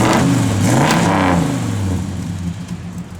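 A 1972 Chevrolet Monte Carlo engine revs up loudly close by, then settles back toward a smoother idle rumble, with no talk.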